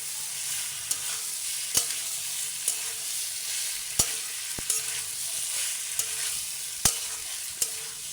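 Potatoes and eggplant sautéing in a pan give a steady soft sizzle, broken by sharp, irregular clacks of a spatula scraping and stirring, with no one speaking.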